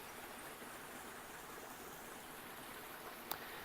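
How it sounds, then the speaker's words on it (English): A river swollen by an overnight rainstorm runs past with a soft, even, continuous rush. It is faint and steady, with one small click near the end. "enjoy the sound of the water"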